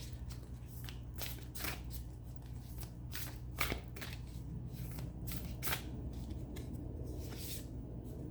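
Tarot cards are shuffled by hand in a run of soft, papery riffles and slaps, repeating at an uneven pace, close and quiet, with no talking.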